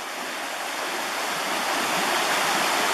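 A stream runs steadily after a long night of heavy rain in the Pepperbox Wilderness, a broad, continuous rushing wash that swells slightly louder toward the end, with no voices.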